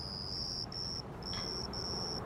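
Crickets chirp in a steady high-pitched trill, broken by brief pauses, against a quiet hum of background noise.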